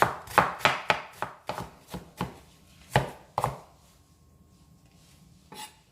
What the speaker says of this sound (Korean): 자, 피클도 다져줄 거예요. 마찬가지로 피클처럼 굉장히 얇게 다지셔야 돼요.